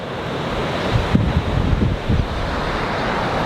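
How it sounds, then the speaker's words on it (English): Violent storm-driven ocean waves near the Galveston-Port Bolivar ferry under rip current warnings, a loud continuous roar of surf mixed with heavy wind buffeting the microphone. "the waves are pretty violent"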